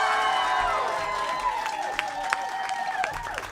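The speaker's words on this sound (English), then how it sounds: "One more round of applause for such an incredible performance." An audience claps and cheers for a live band right after its performance, a broad wash of applause that slowly fades over a few seconds.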